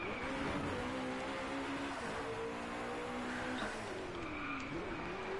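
A McLaren race car in the DriveClub racing game roars under constant engine drone, with rising and falling revs, tire squeal and skidding running through the whole stretch, loud and close.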